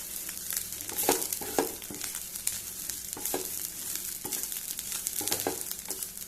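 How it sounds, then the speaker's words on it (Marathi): Grated coconut roasting in a pan on a low gas flame for Goan horse gram curry, giving a steady dry sizzle with repeated louder scraping stirs, close and alone. "ही सोय बरे पैकी भाजून जाली"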